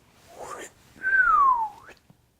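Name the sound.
whistling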